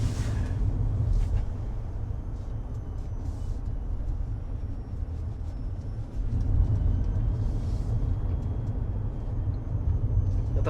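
Farizon Supervan electric van climbing a hill, a steady, dense rumble of road and drivetrain noise from inside the cabin that swells slightly partway through, with no voices.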